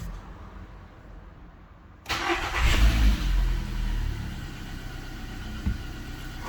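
A VW Golf V 1.4 16V, fitted with a newly replaced catalytic converter, belt and pulley, cranks and catches with a sudden loud start, then settles into a steady, close idle.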